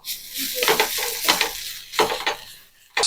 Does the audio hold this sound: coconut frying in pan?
yes